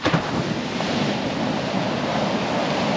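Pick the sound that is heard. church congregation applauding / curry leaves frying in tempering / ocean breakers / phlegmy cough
ocean breakers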